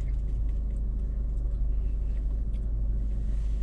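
A car driving on the road, heard as a steady low rumble of engine and tire noise from inside the cabin with no breaks.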